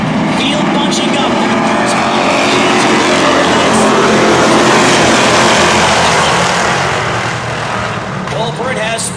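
Race cars in a Beech Ridge sport series heat bunching into a corner, a loud continuous roar of several engines blended together, with an announcer talking over it.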